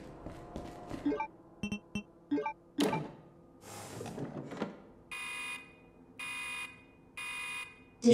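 In the video game Resident Evil 2 Remake, an alarm sounds three evenly spaced, loud electronic beeps near the end, after a stretch of clicks, thuds and other game noises.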